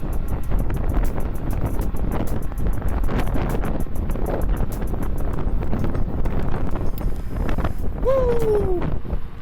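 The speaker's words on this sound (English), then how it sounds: "the wind is battering us" Strong wind roars and buffets the microphone continuously while riding an Ausom Leopard 10-inch off-road electric scooter, loud and unbroken, with a brief rising whine near the end.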